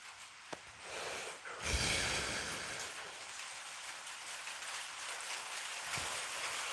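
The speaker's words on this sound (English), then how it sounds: "And here's the heavier rain." Heavy rain pours steadily onto the roof of a forge shop, a dense, continuous hiss heard from inside, with a few faint knocks and thumps.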